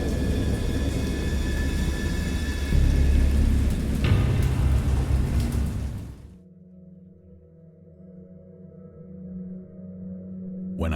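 Heavy rain with rumbling thunder is loud and close for about six seconds. It then cuts abruptly to a quieter steady low drone.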